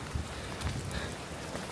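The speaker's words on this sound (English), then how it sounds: "Proper rain in the rainforest." Steady rain falls in a rainforest during a winter camping trip, a dense, continuous wash of drops that stays even throughout, with no voices.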